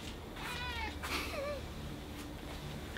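A cat meows several times in quick succession, the calls close and clear over a steady low background hum with no talking.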